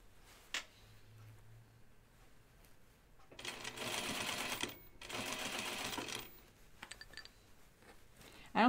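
A home sewing machine stitches a seam in linen for an anorak, running in two short bursts of fast, close whirring with quiet gaps and small handling clicks between them.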